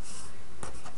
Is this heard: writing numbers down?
yes